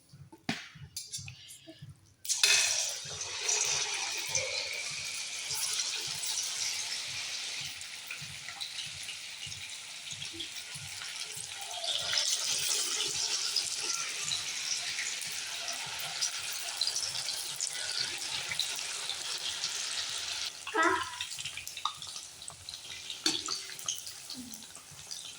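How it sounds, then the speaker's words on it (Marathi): Soybean Manchurian pieces fry in hot oil, a steady, hissing sizzle that starts abruptly and swells and fades over time, with faint clatter and a few voices speaking quietly in the background. "तेल तापलेलं आहे, आता मम्मी ही तरणार आहे"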